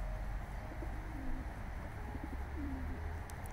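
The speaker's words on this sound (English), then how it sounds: "these pigeons are nice and comfortable now." Pigeons settled on a food patch coo softly in a few low, brief calls against a steady outdoor background hum, faint and somewhat distant.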